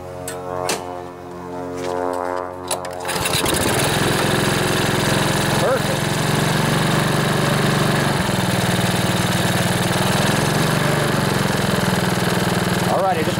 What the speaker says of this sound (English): I'm gonna leave the air filter off of it for the test here.